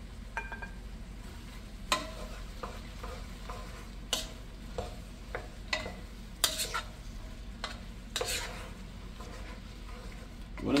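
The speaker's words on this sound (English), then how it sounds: "Make sure you get everything good and coated so they can continue sauteing, softening up a bit" Okra sautéing in a pan, a steady soft sizzle beneath scattered clicks and scrapes as the pieces are stirred and coated, with a few sharper knocks of the utensil against the pan.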